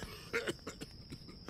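A man coughs in the video game Dead Synchronicity, a short burst of several rough, close coughs with a throat-clearing edge, faint and alone.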